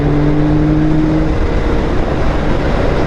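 Yamaha R9 motorcycle accelerating hard, its engine drone buried under a loud, constant rush of wind noise, with a faint tonal whine early on that fades within the first second.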